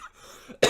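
A single sharp, loud cough bursts out at the very end after a stretch of quiet room tone, from a player during an NBA 2K18 gaming session.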